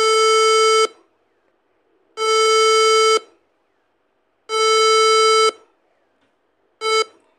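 Emergency Alert System alarm tones: three long, loud harmonic buzzing blasts about a second each, separated by silent gaps, followed by a short fourth burst, heard alone with nothing else underneath.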